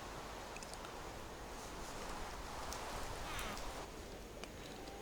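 Rain falling in Minecraft with the Resonant Rise modpack, a steady, dense hiss of rainfall that stays constant throughout, with a few faint higher ticks and no talking.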